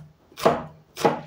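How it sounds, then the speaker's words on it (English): Leaves being chopped on a board to feed chickens: two sharp, close knife chops about half a second apart, each ending in a short decaying thud. "I cut the leaves so that I can give to my chicken."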